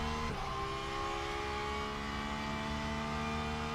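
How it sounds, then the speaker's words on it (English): A racing simulator video game car's engine drones steadily at a constant pitch, with a brief tyre skid or bump early on, heard faintly and continuously with no talking. "the engine note doesn't line up with the RPMs like it does in iRacing, and the tyre skid doesn't seem to fully line up with stuff"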